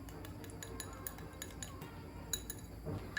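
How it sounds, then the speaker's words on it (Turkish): A spoon stirring egg yolk with oil in a bowl, with faint repeated light clinks against the bowl over a quiet background. "Üzerine şöyle bir yemek kaşığı kadar sıvı yağ boşalttım. Bunu da karıştırıyorum."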